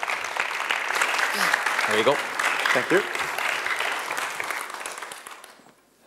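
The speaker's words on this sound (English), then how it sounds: "I'd like to give a warm round of applause for Alexander Spoelstra." An audience at a TU Delft lecture event gives a warm round of applause as a PhD student is introduced, with steady clapping throughout. Brief spoken remarks come through over the clapping before it fades out.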